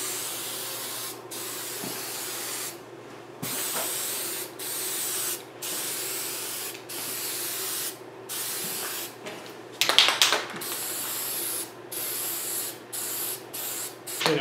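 Aerosol spray paint hisses onto a washer and dryer in repeated steady bursts, each a few seconds long, separated by short pauses, close and loud, with one brief rattle of the can midway.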